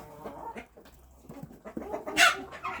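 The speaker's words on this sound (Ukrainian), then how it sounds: "чую гавкає пес" A dog barks a few times in the distance amid farmyard clucking from chickens, fairly faint against a low background hum.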